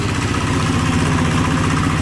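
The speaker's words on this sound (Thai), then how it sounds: "รถไถนาเดินตาม" A walk-behind farm tractor engine runs steadily and close by in a rural Lao village, its loud, even idle thumping with a continuous low-pitched chug and rattling vibration throughout.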